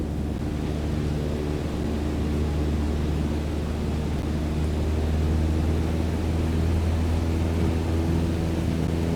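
Propeller aircraft engine held at full throttle during a climb in Microsoft Flight Simulator 2020, a steady loud drone with low harmonic bands that continues unbroken throughout, with no voices.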